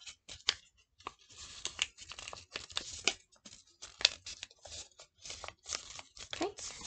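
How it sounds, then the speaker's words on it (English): Paper being folded into origami corners, with repeated crisp crinkles, creases and rustles in short uneven bursts, close up and fairly loud. "So then you are going to fold the corners again, just like you were before."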